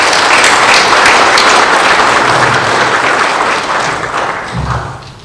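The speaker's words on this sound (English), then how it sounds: "I'm sure that you will join me in giving them a round of applause on their appointment" A full audience applauds at a Fiji Airways event announcing direct flights to Vancouver, greeting new appointees with a dense, steady wash of clapping that gradually thins and fades toward the end.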